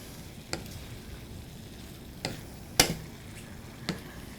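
Meat and vegetables tossed together in a very hot pan, giving a soft, steady sizzle broken by about four sharp scraping stir strokes, one louder than the rest, with no talking.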